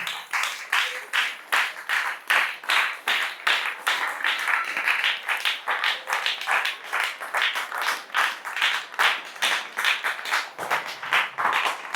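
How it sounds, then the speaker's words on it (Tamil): An audience at a Tamil political fan gathering claps together in a steady unison rhythm, about two sharp claps per second. The beat is loud, close and continues without pause. "இங்கேயே கைத்தட்ட நிக்க மாட்டேங்குது."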